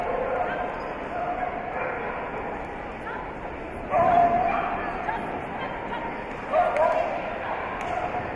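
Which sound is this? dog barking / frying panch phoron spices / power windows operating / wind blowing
dog barking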